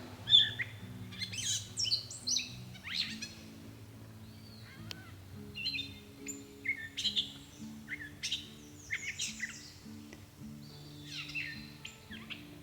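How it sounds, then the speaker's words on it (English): Birds chirp and call repeatedly in short, bright bursts, fairly close, over a low steady hum, on the Appalachian Trail. "You hear that bird?"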